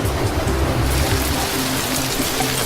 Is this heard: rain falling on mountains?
yes